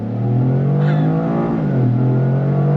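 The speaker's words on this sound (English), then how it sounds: "Nice smooth shifts from that 8-speed automatic transmission" A 2025 Toyota GR Corolla with an 8-speed automatic launches hard from launch control, its engine note loud and close, climbing in pitch, dropping briefly at a smooth upshift near the middle, then rising again.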